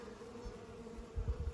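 Honey bees hum around an opened nuc hive, a steady, close buzz with a low droning tone and a few louder rumbles near the end, no voices.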